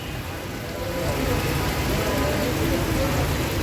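Rain falling outdoors under a dark sky, a dense, steady hiss of drops on surfaces that swells slightly after the first second and holds loud and close.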